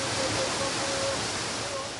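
An icy waterfall in Japan used for Shintaido training: a continuous, full roar of falling water, close and steady, with a faint thin tone drifting over it.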